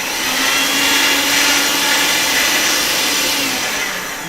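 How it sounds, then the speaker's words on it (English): A pasta machine cranking polymer clay cane through its rollers, a steady close mechanical whir holding at constant level for a few seconds, no voices. "I'm going to put it through the pasta machine like this"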